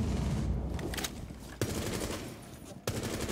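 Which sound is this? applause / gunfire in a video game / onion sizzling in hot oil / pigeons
gunfire in a video game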